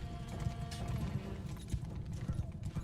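A horse gallops in a medieval-style video game, a fast, steady run of hoof clip-clops under battle noise and someone talking.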